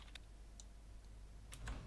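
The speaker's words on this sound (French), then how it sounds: "Keystroke produces a soft sound" A few faint, scattered clicks of keystrokes on a Klim Chroma mechanical gaming keyboard, soft and spaced apart against a quiet, low background hum.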